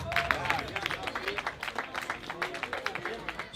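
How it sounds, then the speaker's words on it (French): Spectators at a cycling race applaud the podium finishers with light, fairly distant clapping and a hum of crowd voices, all under an announcer talking in French. "M. Rossi et Dominique Chalifou, tous ensemble, une très bonne main d'applaudissements."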